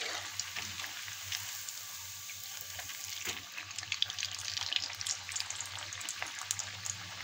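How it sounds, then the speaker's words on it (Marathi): Sabudana vadas deep-frying in hot peanut oil over medium-low heat, with a constant bubbling sizzle and scattered crackling pops, close and steady throughout. "आता आपण हे शेंगदाण्याच्या तेलात तळून घेणार आहोत."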